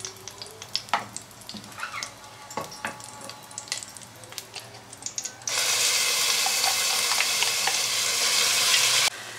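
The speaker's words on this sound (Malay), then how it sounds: "kita akan tumis bahan-bahan ni sampai dia naik bau" A ground spice paste for bubur lambuk is sautéed in a pan. Scattered clatter and stirring sounds come first, then a loud, continuous close sizzle starts about halfway through and carries on to the end.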